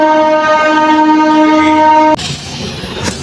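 The Barbil Jan Shatabdi train leaving Howrah blares a loud sustained horn for about two seconds, then gives way to the rumbling, rattling roll of the moving carriages close by.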